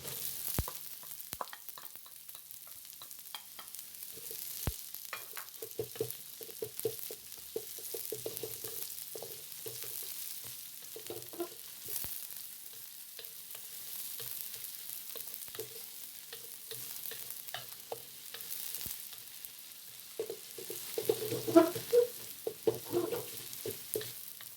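Onions fry in a pan for seafood bihon noodles, a soft steady sizzle broken by scraping stirs and clatters, louder near the end, with no talking.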